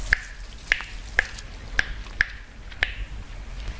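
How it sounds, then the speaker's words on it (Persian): Six crisp finger snaps ring out one after another at a loose, even pace, close and clear against a quiet background with no talking. "از این بشکنم."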